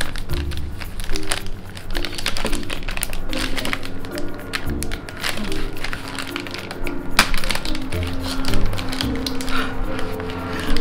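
A knife cuts through a Darrell Lea peanut brittle chocolate block, giving a run of close, sharp cracks and taps with crinkling wrapper sounds, no talking.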